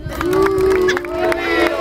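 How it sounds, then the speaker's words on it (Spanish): Party crowd at a children's day celebration for a supporters' club cheering and shouting, with sustained vocal calls over a bed of clapping and noise. "¡Aplauso para Pepe que no bailó!"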